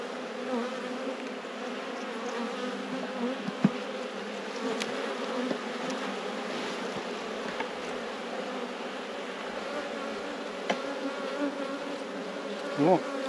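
Honeybees buzz steadily during a beehive inspection, a dense continuous drone close by with a few sharper individual passes, and no talk over it.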